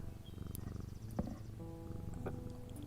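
Purring and low growling rumble from a cat being petted in a video game set in an antique shop, a steady close vibration with a brief sharp accent midway and faint jingling above.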